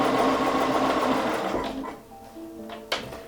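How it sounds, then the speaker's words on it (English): A sewing machine stitches a quilt seam in a steady whirring run for about a second and a half, then slows and stops, leaving a few faint clicks and a short tap near the end. "I'm going to carry on and finish the seam."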